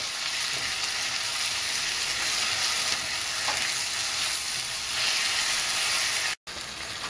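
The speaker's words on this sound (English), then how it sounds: "we're going to bubble off some of that water" Korean spicy pork sizzles and bubbles steadily in a hot pan as its water cooks off, a constant bright hiss with no talking, cut off by a brief dropout near the end.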